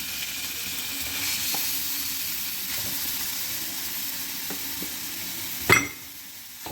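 Chicken pieces frying in about two teaspoons of oil in a home kitchen pan, a steady close sizzle with light stirring scrapes and one sharp clack near the end.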